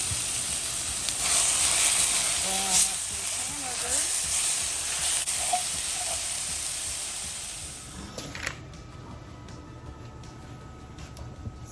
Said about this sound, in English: So while that hamburger's browning